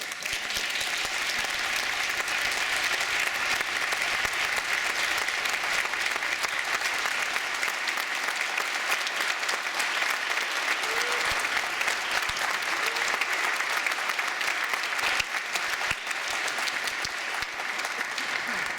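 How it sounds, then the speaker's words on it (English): An audience at a school honor band concert gives a long, sustained round of applause for the music directors and teachers, dense, even clapping filling the hall from start to finish. "if you would please stand, just so we can give you a public round of applause"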